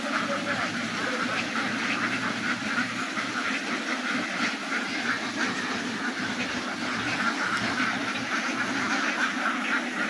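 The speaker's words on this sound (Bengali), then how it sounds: "প্রচুর হাঁস," A flock of ducks at a duck farm quacks continuously in a noisy chorus, many birds calling at once with a steady background hiss.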